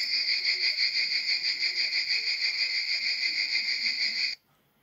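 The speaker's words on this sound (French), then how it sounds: "écoute le bourdonnement de Pétale la cigale." A steady, loud cicada buzz with a fast pulsing texture, continuous for several seconds before cutting off abruptly.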